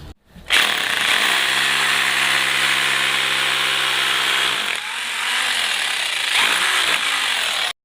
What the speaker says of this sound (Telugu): డ్రిల్ మెషిన్తో హోల్ చేసుకున్నాం కదా.